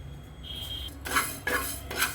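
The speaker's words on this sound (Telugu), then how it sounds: "ఇవి మెంతులు కొంచెం దోరగా ఫ్రై చేసుకుందాం" Fenugreek seeds fry in a pan as a spoon scrapes and stirs, a few metallic clinks and scraping strokes over a faint low hiss.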